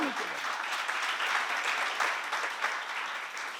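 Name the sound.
seminar audience applause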